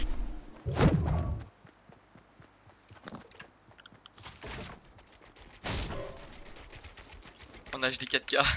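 Gunfire behind the player in the Fortnite battle royale video game: a few sharp, loud bursts spaced out over several seconds, close and punchy, with game sounds in between.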